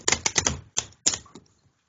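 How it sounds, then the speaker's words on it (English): Hanson Roberts tarot cards being shuffled once by hand, a close, crisp flurry of rapid card riffles and slaps lasting about a second, then a couple of quieter taps before silence. "Let me just give it one shuffle."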